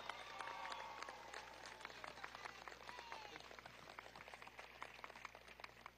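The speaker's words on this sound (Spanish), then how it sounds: "Todos ustedes, aplauso para todos ustedes." A large crowd at an outdoor march in Maturín applauds steadily, heard faintly and from a distance with some whistles and voices mixed in.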